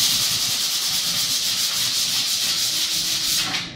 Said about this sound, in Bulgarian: Това цялото ще го заскурим.